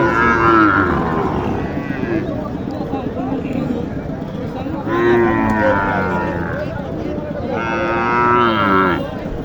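Cattle at a village cattle market for improved-breed heifers in Naogaon, Bangladesh, give several loud, close, drawn-out moos, with people talking throughout.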